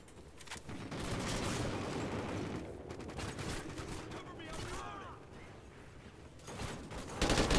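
Rapid automatic gunfire bursts and scattered shots in the online multiplayer shooter Call of Duty: Ghosts, moderately loud and ongoing. Excited player voices can be heard over parts of it.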